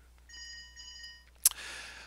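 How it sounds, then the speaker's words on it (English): A telephone bell rings in a short electronic trill, then a sharp click and rustle as if the receiver is lifted, in a quiet room. "Telephone's ringing."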